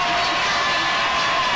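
A brief, continuous roar of a cheering crowd at a high school football game, Central Lafourche at South Lafourche, steady and fairly loud with no breaks.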